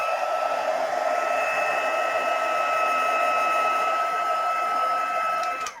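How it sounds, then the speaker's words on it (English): A handheld crafting heat tool blows a steady, loud whirring hum while drying wet watercolour paint. It runs without a break for several seconds and stops abruptly at the end. "This is just a heat tool, a crafting heat tool."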